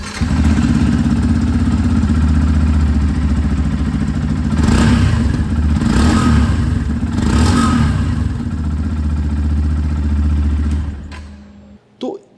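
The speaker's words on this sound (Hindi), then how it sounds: "यहाँ मैं आप लोगों को एक बार इसकी जो इंजन है इसी की आवाज़ से सुना देता हूँ।" A Yamaha FZS motorcycle engine rumbles steadily at idle nearby, swelling in two or three throttle blips before cutting off near the end.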